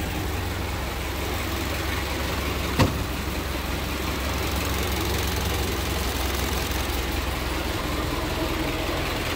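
A 1914 Ford Model T Touring's inline four-cylinder engine idles with a steady, knocking rumble, close and continuous, with a single short click partway through.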